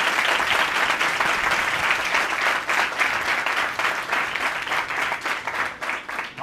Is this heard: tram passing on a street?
no